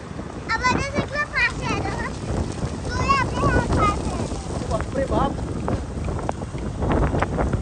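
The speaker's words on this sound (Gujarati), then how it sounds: "પવન ઉડે છે" Strong storm winds roar and buffet the microphone during a cyclone, a continuous rough rumble under excited voices exclaiming and talking.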